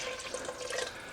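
A cup of water is poured into a pork stew pot on a burner set to high, making a brief, steady splashing pour that lasts about a second.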